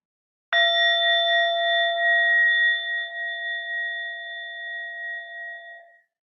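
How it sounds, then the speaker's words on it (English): A single mindfulness bell struck once during a guided sensing practice, a clear ringing tone with steady overtones that sustains and slowly fades over about six seconds in otherwise silent surroundings. "The sound of the bell."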